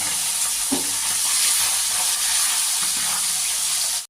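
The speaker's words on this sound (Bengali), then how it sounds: "এইভাবে অল্প অল্প করে মাছগুলো আমি ভেজে নেব" Small tengra fish fry a few at a time in hot oil, making a loud continuous sizzle with occasional spatters and stirring clinks, heard close up with no speech.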